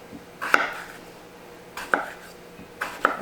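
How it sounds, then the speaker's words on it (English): A knife chops Yukon Gold potatoes on a cutting board in three spaced, firm thuds, each with a short knock from the blade, close and clear with no talk. "I'm just going to chop these up"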